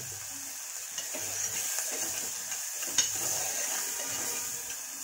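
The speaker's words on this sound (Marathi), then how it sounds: "ह्याला चांगलं ढवळून घेणार आहे" Chowli usal, a cowpea curry, being stirred in a pan, giving soft scraping and light clinks over a faint steady sizzle, quiet and close, without talking.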